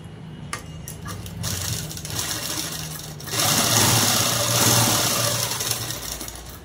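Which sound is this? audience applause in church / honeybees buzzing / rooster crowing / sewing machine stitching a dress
sewing machine stitching a dress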